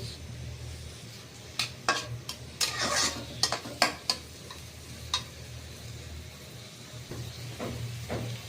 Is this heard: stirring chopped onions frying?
yes